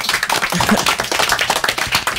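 A small group claps a short, brisk round of applause in a French TV studio. The claps are quick and close, packed into about two seconds.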